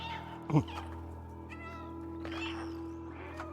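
A cat meows in the video game Stray, one sharp close call near the start over a steady hum of game music, with a few fainter cat-like sounds following.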